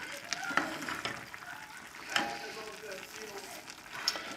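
Pork hocks and Great Northern beans simmering in a pot, a soft bubbling sizzle with a few scattered scrapes and taps as the contents are stirred around, quiet and close with no voices.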